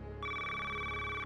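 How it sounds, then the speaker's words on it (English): A telephone in the White House rings at 3 a.m., a loud steady electronic trill that starts abruptly and carries on alone. "It's 3 a.m. and the phone's ringing in the White House."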